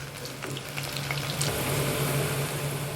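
Steady crackling hiss of cauliflower pakoda deep frying in hot oil, continuous and close, with a low hum underneath and no voices.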